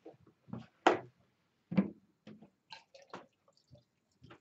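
Bottled water pours into a jar over eggs for pickling, heard as a series of soft splashes and drips, close and intermittent, with short quiet gaps.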